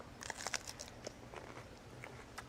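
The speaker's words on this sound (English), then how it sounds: "The lettuce gives it a nice crunch." Crisp crunching bites into grilled bang bang shrimp wrapped in lettuce, a few sharp close crunches and crackles over quiet chewing, faint and without speech.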